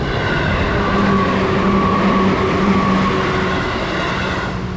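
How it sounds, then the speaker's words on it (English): Train passing close by at a level crossing in Kyoto, a steady loud rumble of wheels and rolling stock holding for the full stretch with a faint tonal hum over it, no talking. "a train's about to go by and like the things came down"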